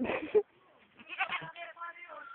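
A buck goat bleats loudly and nearby, one short harsh cry at the start, followed by people chattering and calling out on a farm while the goats are herded.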